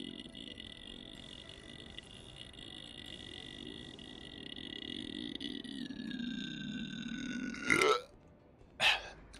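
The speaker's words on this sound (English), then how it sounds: "I was waiting for that burp" A long, low belch rumbles for several seconds in the game Anachronox, fairly quiet and close, then ends with two short sharp sounds, with no talking over it.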